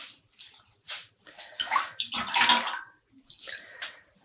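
Dyed non-superwash wool yarn held by a zip tie and squeezed by hand, letting excess water splash and trickle back into a bowl in a few wet, gurgling bursts with short pauses between, close and moderately loud.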